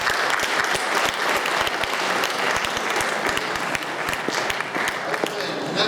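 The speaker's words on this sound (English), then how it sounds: "let's have a round of applause for these panel" A crowd applauds a panel of judges at a high school event, with steady, energetic clapping throughout and some voices mixed in.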